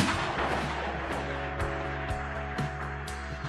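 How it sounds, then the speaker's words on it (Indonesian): Gunshot from the post-apocalyptic film The Book of Eli, a series of sharp cracks roughly every half second over a dense, rumbling score with a sustained low drone. "ia justru malah menembak perut Ellie pada saat itu juga"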